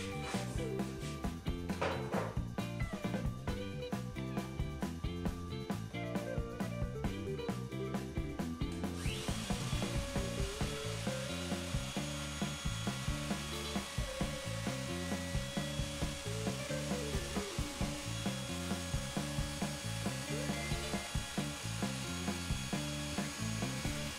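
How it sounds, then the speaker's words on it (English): Router fitted with a flush-trimming bit trimming laminate flush against plywood on a workbench, a loud steady high-pitched whine that runs continuously from about nine seconds on, preceded by mixed tool clatter and scraping. "I've got my flush trimming bit mounted in my router."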